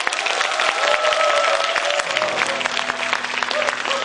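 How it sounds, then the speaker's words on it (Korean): An audience at a humanities concert event applauds to welcome a speaker, a loud, dense wash of clapping that carries steadily throughout, with a faint voice underneath. "여러분 아주 마음을 담은 큰 박수로 환영해 주시기 바랍니다."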